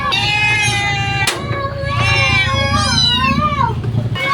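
A cat meows repeatedly at close range, drawn-out plaintive cries with a brief sharp knock between calls, over a low steady background hum.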